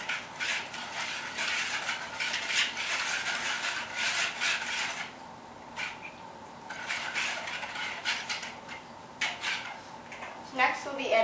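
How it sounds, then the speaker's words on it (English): Red velvet cake batter being mixed in a bowl, with a steady rattling, scraping churn of a mixer or utensil that runs continuously with brief louder clatters, fairly close. "We're going to mix those in."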